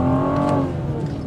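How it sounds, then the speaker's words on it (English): A 2022 BMW M440i accelerates hard, its engine and exhaust note rising loudly and close, a strong revving tone that eases slightly toward the end. "And you get the exhaust note that filters in."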